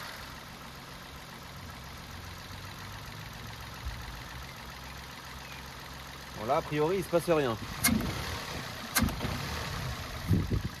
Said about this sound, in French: J'ai l'impression que le moteur a les mêmes ratés.